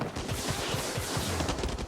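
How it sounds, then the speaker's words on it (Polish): Revolver gunshots in the video game Far Cry 6 fire in a quick, dense burst, layered with loud echoing gunfire and other shots over about two seconds, with no talk. "A ja strzelam po prostu rewolwerem."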